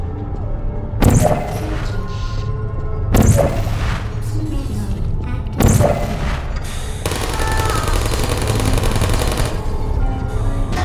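Turret gunfire in the Portal video game: loud rattling bursts erupt three times, then become a sustained stream of rapid fire over a steady, busy game-sound backdrop.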